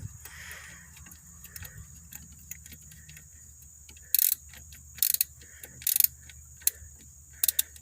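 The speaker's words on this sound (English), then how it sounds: "a 3/8 thumb ratchet down there on that" A small 3/8-inch thumb ratchet clicks while working on the engine of a 2001 Nissan Sentra, in short close bursts of rapid clicks repeated several times over a faint background hum.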